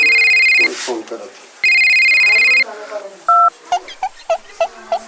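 A telephone is dialed, with two long keypad tones followed by a quick run of short beeps. Voices speak between and over the tones.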